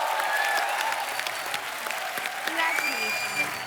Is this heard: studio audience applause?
yes